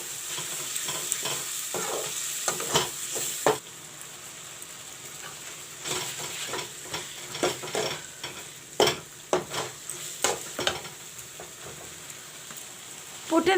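Cut-up tomatoes sizzling in a pan while being stirred, with a steady fry hiss broken by repeated scraping clicks of a spoon against the pan, fairly close, with no talking.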